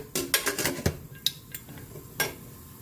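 A metal lid set onto a cooking pot: a quick cluster of sharp clattering clinks, then two more isolated knocks, close by with no talking.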